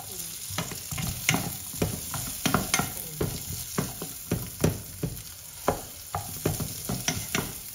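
Garlic and onion frying in a pan for chicken wings adobo with lemon, a steady close sizzle broken by frequent sharp spatula scrapes and clacks from brisk stirring, with no talking.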